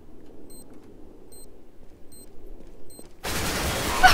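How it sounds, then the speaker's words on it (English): Bomb defusal in the video game CS:GO: a faint steady beep repeats about every second over quiet background noise, then a loud burst of broadband noise cuts in near the end. "I'm defusing the bomb."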